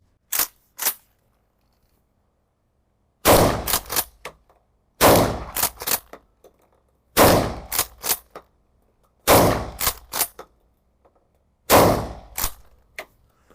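Hatsan Escort smoothbore shotgun fired outdoors, six loud sharp blasts with quick follow-up clacks of the action between shots, spaced a couple of seconds apart.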